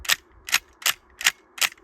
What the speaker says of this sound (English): When I pull the trigger, each time the bolt cycles, it pushes my finger forward